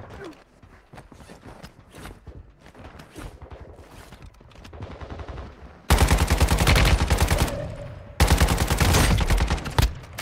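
Gunfire in the mobile video game Warzone Mobile: scattered distant shots and game effects, then two loud, close bursts of rapid automatic fire separated by a short gap.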